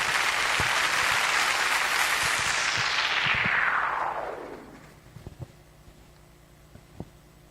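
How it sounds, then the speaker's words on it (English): Audience applause at a state merit award ceremony in Oyo State, a dense, loud roar of clapping from a large crowd that fades out after a few seconds, leaving a quiet hall with a few scattered knocks. "A round of applause for her as she comes forward"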